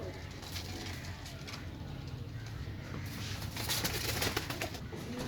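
A pigeon at a pigeon sale coos softly and repeatedly, close by, over a steady background hum and faint rustling.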